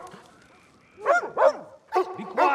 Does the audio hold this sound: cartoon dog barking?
yes